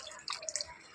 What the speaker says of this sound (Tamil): கரைச்சி வச்சுருக்க புளி தண்ணி, ஒரு பெரிய நெல்லிக்காய் சைஸு புளியை கரைச்சி இதில் சேர்த்துது.